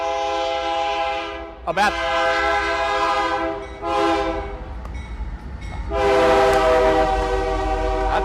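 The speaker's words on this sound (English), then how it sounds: "that train would come by" A train rumbles past a small-town depot in Zwolle, Louisiana, its loud, close horn sounding in several long harmonic blasts over a steady rolling roar of rail cars, with a brief spoken word slipping in between blasts.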